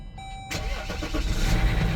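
A 2014 Jeep Grand Cherokee diesel with 177,000 miles starts after a starter whir and faint chime, then settles into a close, rough, clattering idle.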